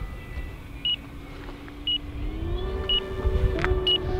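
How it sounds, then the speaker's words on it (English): An RC radio transmitter's 5-minute timer gives four short evenly spaced beeps about a second apart at an outdoor flying field, over a steady motor whine and low rumble from a large E-flite Focke Wulf FW 190 warbird. "what you're hearing now is just a 5-minute timer on the radio"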